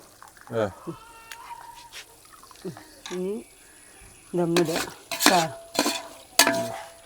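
Masala water hits a hot pan for an Eid ul Adha meal, then sizzles as a spoon stirs and scrapes the pan. Bursts of talking come between and over the soft, moderate cooking sounds.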